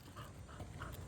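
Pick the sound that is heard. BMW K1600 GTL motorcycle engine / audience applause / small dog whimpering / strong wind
small dog whimpering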